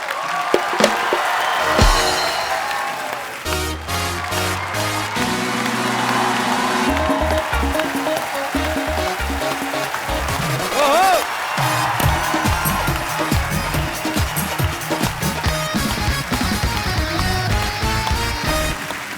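A studio audience at a comedy show claps and cheers for singer Kailash Kher, steady loud applause with whoops running throughout, occasional brief musical stings cutting in and out.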